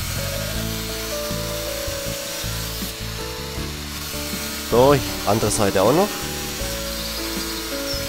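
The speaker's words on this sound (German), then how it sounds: "Halten Sie die Leertaste gedrückt, um die Schiene mit dem Trennschleifer zu durchtrennen." Rail being cut with an abrasive cut-off grinder in the Gleisbau-Simulator 2014 railway track-building game, with several short rising whining bursts of the grinder over steady background noise, while someone talks briefly.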